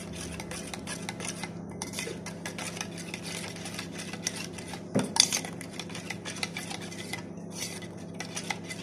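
A spoon stirs black salt and chilli powder into raita in a bowl, giving soft continuous scraping and clinking against the bowl with a few sharper knocks near the middle; no talking.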